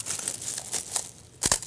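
A transparent plastic bag is crinkled and rustled around a camera held inside it for rain protection, with soft continuous crackling and a sharper, louder crunch of handling near the end.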